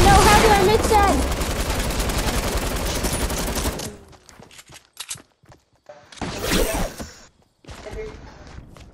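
Pump shotgun fire in a video game: a dense, loud volley of blasts fills the first few seconds, followed by quieter scattered shots and short bursts amid game noise.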